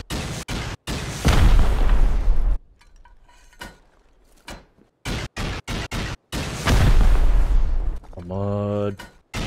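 Rockets blast during a raid in the video game Rust, with several loud, close explosions in two heavy bursts separated by sharp pops, and a voice briefly heard near the end.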